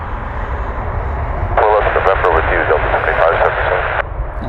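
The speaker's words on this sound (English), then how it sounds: "Have a Delta CRJ departing here on 24 left in front of us." A Delta CRJ jet departs runway 24 left on a rainy day in Cleveland, a steady engine rumble heard from a distance, with a burst of radio chatter partway through.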